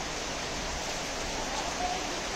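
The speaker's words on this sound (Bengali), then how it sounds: "বাহ, সুন্দর বৃষ্টি।" Rain falling steadily outdoors, a broad soft hiss of drops with no distinct pattern, even and moderately faint, with no talking over it.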